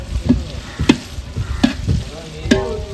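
Mutton sautéed with whole spice masala, several sharp spoon knocks against the pan roughly every half second over a low sizzle, close and fairly loud, no voices.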